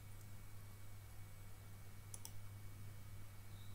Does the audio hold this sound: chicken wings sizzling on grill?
no